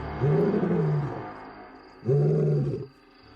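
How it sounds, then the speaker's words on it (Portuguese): A wild lion gives two strong, deep roars with an unusual, strange tone, each about a second long, loud and close with low background noise between them. "O rugido dele era dos mais estranhos e incríveis de todos os leões."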